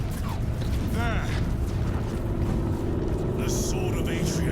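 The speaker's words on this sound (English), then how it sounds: "I hear engines." Engines rumble and whine as they approach in the game Warhammer 40K Space Marine 2. The low mechanical roar stays steady, with brief whooshing effects and game voices over it.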